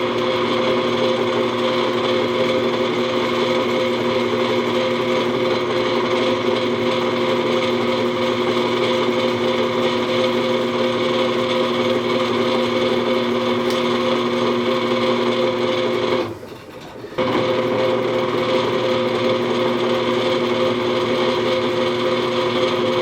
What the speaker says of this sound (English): It's going to be a 3/16 of an inch hole, and we're going to countersink it for our mounting screws.